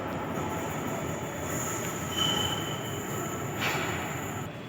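A Nagpur Metro train at Zero Mile station gives a steady rolling rumble with a thin, high wheel squeal rising briefly midway, heard moderately quietly and without any talking.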